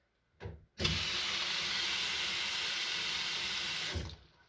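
A kitchen faucet in a Saw Creek Estates home in the Poconos runs with a strong, steady rush for about three seconds, after a brief opening spurt, close by and with no talking.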